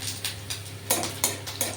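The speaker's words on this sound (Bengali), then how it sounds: "দুটো শুকনো লঙ্কা ভাজা হচ্ছে" Two dry red chillies fry in a pan of hot oil after cumin and cardamom go in. The sizzle is soft and steady, with a few sharp stirring clinks and scrapes of a utensil against the pan.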